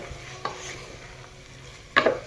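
A spoon scrapes through thick carrot halwa in a pan, two short quiet strokes against a faint background hum.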